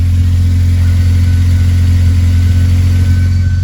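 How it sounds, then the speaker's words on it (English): Car engine from a Si fitted with a new header, idling loud and steady with a heavy, raspy exhaust leak droning close by, no voices. "It does have a really big exhaust leak if you can come down here and hear it."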